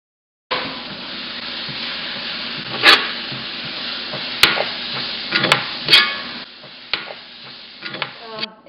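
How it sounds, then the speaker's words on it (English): Eggplant dip stirred with spices, a steady soft scraping and squelching running through, with a few sharper clinks of the spoon against the bowl and faint speech-like sounds. "give it a good stir and mix it up really well"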